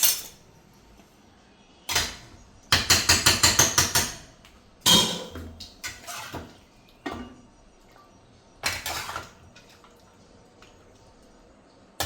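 A metal spoon clanks and scrapes against a cooking pot while scooping out meat, sharp knocks arriving in irregular bursts with a rapid cluster of taps, close by and separated by quiet gaps.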